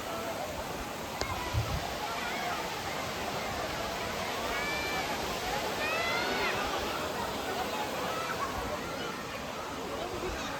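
Kovai Kutralam waterfall in Coimbatore flowing with low water, a steady broadband rush heard at a distance beneath chattering voices and bird calls.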